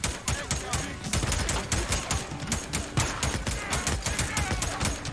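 Rapid bursts of gunfire from a regular bullet in a video game, dense repeated shots crackling steadily throughout at close range, with faint talk mixed underneath.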